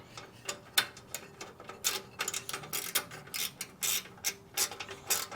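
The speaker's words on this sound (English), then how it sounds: "Now I'm gonna put everything on the longer ratchet." Ratchet tightening the exhaust nuts on a Harley-Davidson Sportster during an exhaust gasket change: rapid, uneven bursts of sharp metallic clicks, close up, with no talking.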